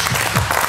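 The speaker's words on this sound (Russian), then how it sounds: "Аплодисменты вам, вы молодцы." A brief burst of audience applause at a rock versus hip-hop quiz show, short and fairly loud clapping lasting under a second.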